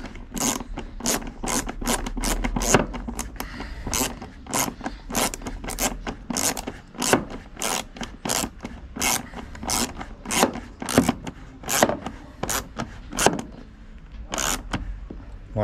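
Bumper screws on a Renault Kangoo 2 are unscrewed by hand, producing a long, even series of about twenty short, raspy ratcheting clicks, close and steady, with no talk.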